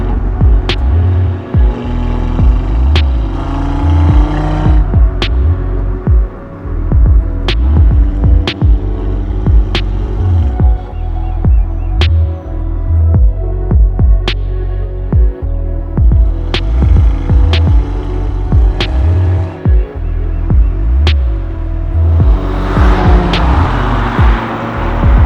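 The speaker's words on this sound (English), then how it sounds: "hearing the exhaust, it really does bring a big joy" An Audi RS3 engine and exhaust drone steadily while driving through town roads, a loud continuous low throb with rising and falling revs and occasional sharp clicks and knocks, close up, with no talking.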